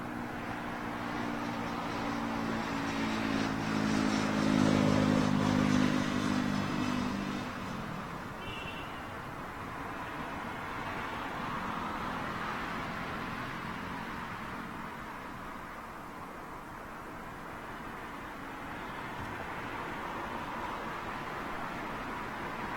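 A Singapore Airlines Airbus A350 jet passes at Heathrow Airport, its broad roar loudest early on, with a low droning hum under it, then fading into a steady distant wash of engine noise.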